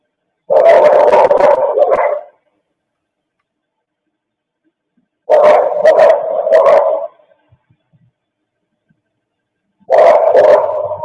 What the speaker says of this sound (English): the more the dogs bark, the more other dogs are going to hear and start reacting for sure